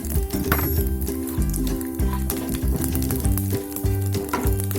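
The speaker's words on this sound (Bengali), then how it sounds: "তেজপাতা ফোড়ন দিলাম, শুকনো লঙ্কা দিলাম, একটু রাঁধুনি দিলাম" Bay leaf, dried red chilli and radhuni seeds are tossed into hot oil for a Bengali bitter shukto, giving a brief, close crackling sizzle with some clinking of utensils; no one speaks.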